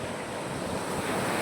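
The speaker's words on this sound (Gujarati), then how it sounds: "દરિયાનું પાણી કેટલું છે મિત્રો જુઓ" Sea waves wash and roll steadily at the shore, a continuous, full surf roar mixed with wind buffeting the microphone, with no voices.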